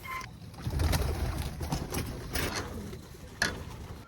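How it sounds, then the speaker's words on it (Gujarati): A young pigeon, too small to fly off with the rest of the flock, coos softly at close range among faint rustling and light background clatter, with no talking. "બધા કબૂતર જતા રહ્યા છે પણ આ એક નથી જઈ શકતું"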